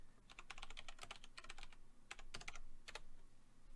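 Rapid bursts of typing on a computer keyboard, clustered in quick flurries with short pauses, close and fairly clear over a low background hum.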